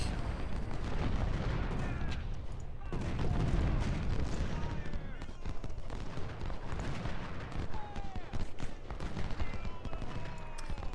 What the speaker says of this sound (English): you're being targeted by the artillery there